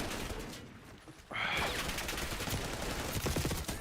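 Rapid bursts of hipfire gunshots in Black Ops 6 Warzone, a dense crackling fusillade that starts abruptly after a brief lull and continues as loud repeated shots.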